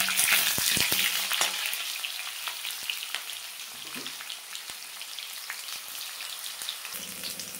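Potato pieces sizzling in hot oil with whole cardamom, cinnamon, cloves and cumin, a loud initial hiss that settles into steady crackling, with a few stirring clinks.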